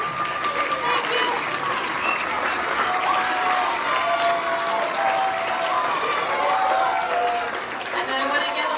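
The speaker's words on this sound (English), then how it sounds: "can you stand up so we can clap for you?" An audience at an eighth-grade school band concert claps for school administrators, a steady roar of applause lasting several seconds, with some voices mixed into the crowd.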